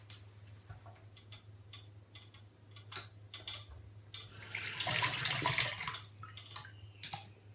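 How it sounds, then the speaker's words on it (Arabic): Water pours from a tap into a bowl of rfisa dough with salt, a steady trickle swelling into a louder splashing gush midway over a low constant hum. "نجيب شويه الماء نديرو هنايا"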